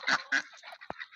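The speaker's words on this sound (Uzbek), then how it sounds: "agidel o'rdaklarimiz ham sotiladi." Agidel ducks give a few short, nasal quacks and honks in quick succession, close and fairly loud, with one sharp click near the end.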